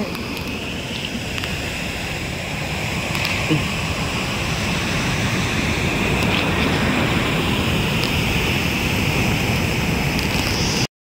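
Godavari river water gushing steadily out from underground into a canal, a loud, continuous broadband rush with no breaks, close by and alone throughout.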